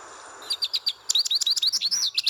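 A goldfinch's bright song in the video game Bird World: quick, high chirps, a short run first, then a faster, denser trill of twitters, close and clear with no talk.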